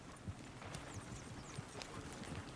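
Horse hooves galloping in the video game Red Dead Redemption, a steady rapid clip-clop rhythm of thuds heard up close over a constant background bed, with no talking.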